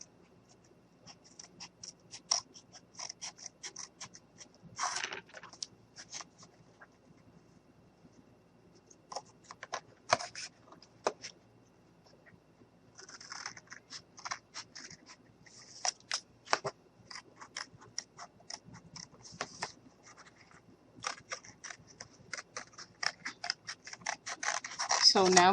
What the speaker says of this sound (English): So now I'm just cutting this out, just so my snowman will be a tad bit thicker.